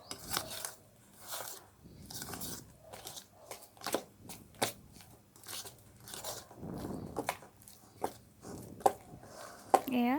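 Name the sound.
mixing grated jackfruit juice, flour and salt by hand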